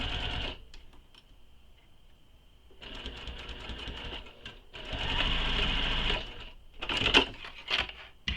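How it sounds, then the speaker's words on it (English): Sewing machine stitching the bottom edge of a leather espresso wallet, running in several bursts with brief back-and-forth backstitching at start and stop, close and steady, with short pauses between runs. "Now I'm going to stitch this bottom edge of 4C down. And again, I'm back stitching at start and stop."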